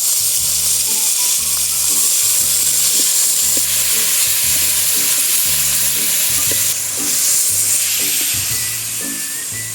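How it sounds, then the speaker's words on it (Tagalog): Pork sautés in a pan with garlic and onion, a loud, continuous hissing sizzle that holds steady throughout, with no talking. "Hintayin na lang natin mga idol na magmamatika yung ating karne"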